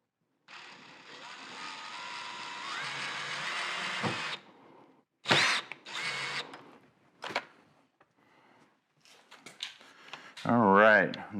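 A power tool tightening fasteners on BMW mud flaps whirs in a sustained burst that rises in pitch partway through, followed by short bursts and clicks, close up, with faint talk near the end.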